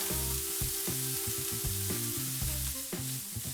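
Finely chopped onions fry over low heat in a pan for paneer toast, giving a steady bright sizzle that runs throughout beneath a louder stepping musical backing.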